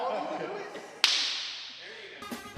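A single sharp hand clap cracks out once, close and loud, as a slate marker for a video take at a robotics championship awards show, with faint voices and room noise around it.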